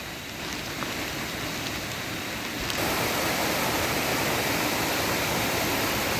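A rural stream on a farm property runs in a steady, dense rush of flowing water that fills the whole clip and grows slightly louder partway through, with no voices.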